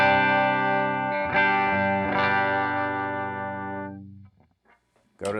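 A Westcreek Explorer-style electric guitar is played through a clean tone, with a few sustained chords ringing out together, then decaying to near silence before a sharp new strum at the end.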